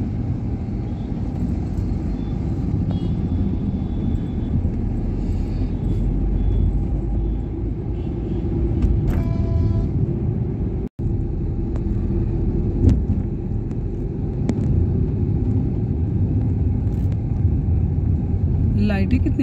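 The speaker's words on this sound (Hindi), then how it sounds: "झूसी थाना अध्यक्ष महोदय की गाड़ी है।" Jammed road traffic in Prayagraj around the Jhusi police station chief's car gives a continuous low engine rumble with occasional tonal blips and brief pneumatic hisses, while people talk nearby throughout.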